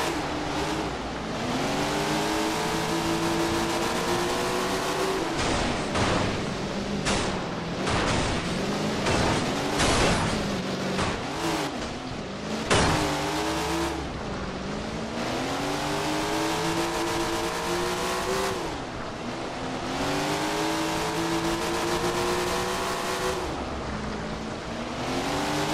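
Race car engines roar continuously as the cars roll toward the start line, loud and close, with repeated revving swells and pitch sweeps rising and falling throughout, no talk over them.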